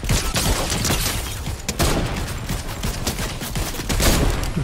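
Dense gunfire from the video game Fortnite crackles in a continuous loud barrage of rapid overlapping shots, with no pause across the whole stretch.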